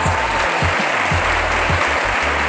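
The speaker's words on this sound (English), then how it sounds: "So give yourselves a round of applause for that." An audience at an evening talk applauds in a thick, continuous burst of many hands clapping together, loud and close from start to finish.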